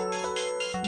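A mobile phone ringtone sounds for an incoming call, a clear, steady melodic tone heard close up with no one talking over it.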